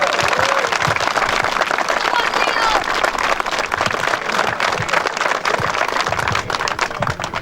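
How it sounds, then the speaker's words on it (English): Players and supporters in a noisy room after a junior A hurling final applaud the winning Glamour side, dense clapping mixed with crowd chatter and voices throughout, loud and close. "just a round of applause for Glamour to start"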